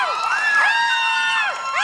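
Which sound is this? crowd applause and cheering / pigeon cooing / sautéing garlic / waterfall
crowd applause and cheering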